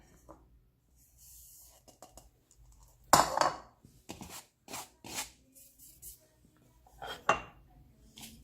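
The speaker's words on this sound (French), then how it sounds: "Alors je vais tout transvaser" Dry bread ingredients such as flour, sugar, baking powder and salt are tipped into a dish for Maghrebi matlouh bread, giving a string of close clinks, scrapes and soft pours from a utensil and bowl.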